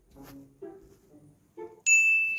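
A phone being plugged in to charge gives a bright electronic chime that rings out and sustains, following a few soft, faint taps and handling sounds nearby.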